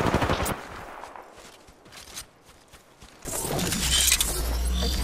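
Gunfire in an Apex Legends match, a burst of close rapid shots followed by scattered clicks and footsteps, then a loud continuous rumbling roar of incoming fire.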